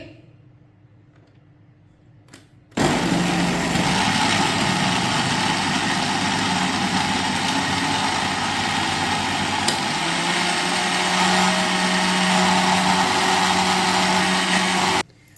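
After a quiet start, a blender jug whirs loudly, grinding mango with sugar, salt and a glass of water in a steady, high-pitched roar that stops abruptly near the end.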